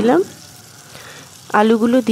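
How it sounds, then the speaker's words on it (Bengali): Potato pieces fry in hot mustard oil in a wok, giving a soft, steady sizzle that sits between stretches of a person talking at the start and end. "এবার এগুলোকে আমি একটু লাল লাল করে ভাজা করব"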